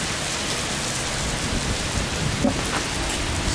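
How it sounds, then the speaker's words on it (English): Steady rain falls in a storm, with a low rumble of thunder beneath a constant wash of heavy downpour, loud and close throughout. "Storm."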